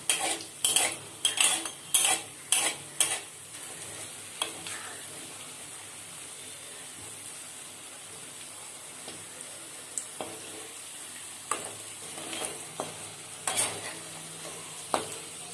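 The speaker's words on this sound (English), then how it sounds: "Fry the potatoes until light brown color." Potato wedges frying in hot oil in a pan while being stirred, with a close burst of clinking utensil strokes at the start, a steady sizzling hiss throughout and a few more scrapes near the end.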